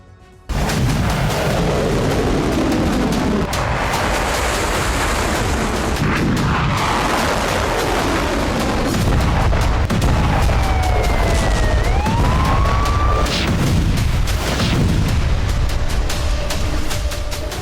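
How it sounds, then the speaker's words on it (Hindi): Missile strike explosions in Israel, heavy booms and blasts repeating over a constant roar, with sirens wailing rising and falling in the middle, loud and dense throughout. "इजराइल की धरती पर 72 घंटे से इसी तरह विस्फोट हो रहे हैं।"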